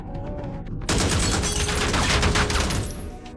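Burst of automatic gunfire from armed attackers ambushing a car on an overpass in the film Mogadishu, a dense, loud volley of rapid shots erupting abruptly after a quieter lead-in and continuing without pause.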